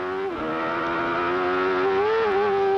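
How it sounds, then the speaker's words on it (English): 1993 CART IndyCar at Mid-Ohio spinning its wheels as it crests a hill, a continuous high-pitched engine whine that wavers and surges briefly, loud and close. "Oh, and you hear the wheel spin? Car got light."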